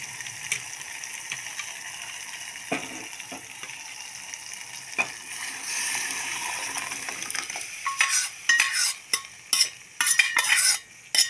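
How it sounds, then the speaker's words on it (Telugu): Cooked, mashed Mysore dal poured into a sizzling pan, a steady fry hiss with scraping and clattering spoon-and-pan knocks that grow louder and busier toward the end; no talking. "ఇప్పుడైతే నేను ఉడికించి పెట్టుకొని కొంచెం లూజ్ చేసి పెట్టుకున్న పప్పు అయితే దీంట్లో వేసేస్తున్నా చూడండి"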